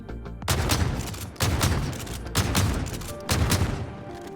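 R9-0 double-barrel shotgun from a video game fired rapidly, four loud blasts in quick succession with brief gaps, each a sharp broadband crack with a short tail.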